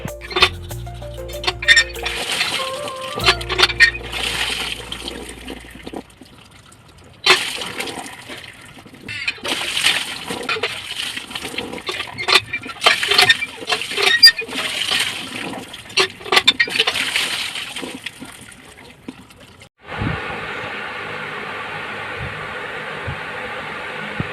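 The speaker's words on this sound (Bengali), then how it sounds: "রোদ এখন একটু কম আছে তো সেই জন্য বুনু করলো যে তাড়াতাড়ি কাপড়টি ধুয়ে নিই" Clothes being washed by hand in a Bengali home: repeated sloshing, splashing and wet slapping of fabric in water, in uneven bursts. A steadier flow of running water follows near the end, with no speech.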